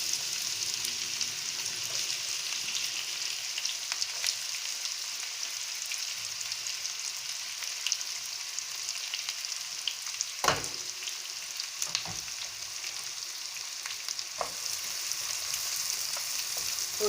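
Chopped onions fry in a pan for vegetable pulav, giving a steady bright sizzle with occasional sharp clicks of a spatula stirring, close and uninterrupted by speech.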